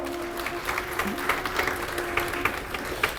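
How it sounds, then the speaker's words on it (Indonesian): A gathering applauds in an even, sustained patter of many hands at moderate distance, with a faint steady hum beneath and no talk. "Tepuk tangan."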